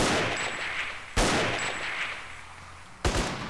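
Gunfire in the online PvP game MTA DayZ: continuous rapid shooting with two louder, sharper shots standing out about two seconds apart.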